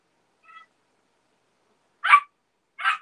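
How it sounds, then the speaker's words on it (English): A puppy barks somewhere off to the side. One faint short yip comes first, then after a pause two loud, sharp barks follow about a second apart, with silence between them. "You hear his puppy over there, don't you?"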